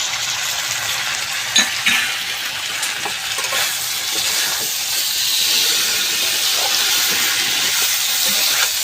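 Spice paste with chili powder sizzles and fries steadily in a pan for a Bengali tilapia fish curry, a constant loud hiss with occasional spoon scrapes and small pops, no voices.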